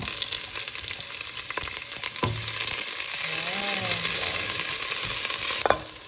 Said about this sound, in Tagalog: pag nasotay na po yung uh, ginger, atin pong ilalagay naman ay ang onion